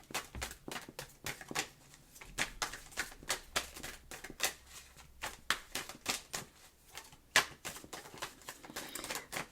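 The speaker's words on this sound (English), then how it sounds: "The shuffling is almost like a meditative experience for me." Repeated crisp riffling and slapping of tarot cards being shuffled, in quick irregular bursts, close and moderately quiet.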